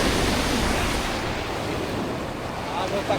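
Steady, loud surf from ocean waves on a sandy beach with clear water fills the clip, a continuous broadband wash with wind noise and no speech.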